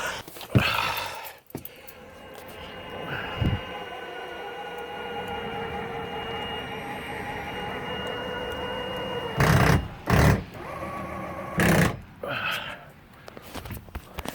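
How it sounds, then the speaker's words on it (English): Engine hatches on an old boat lifting under battery power, a steady mechanical whine of the hydraulic or electric lift running for about eight seconds, close by, with brief loud knocks and clunks near the end as the hatches settle. "at least the battery have enough power to lift the hatches"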